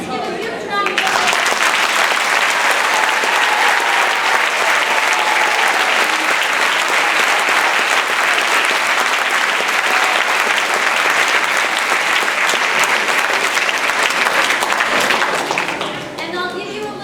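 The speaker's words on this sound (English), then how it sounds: "Let's give a huge round of applause." Loud, sustained applause from the audience at a middle school spring concert fills the room, dense clapping that holds steady for about fifteen seconds before tapering off.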